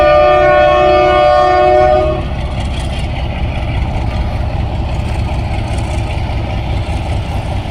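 Pakistani train Kohat Express 133 Up accelerating, opening with a loud, steady horn blast for about two seconds before it cuts off and a rumbling, rolling roar of the moving train carries on close by.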